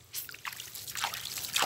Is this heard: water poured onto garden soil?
yes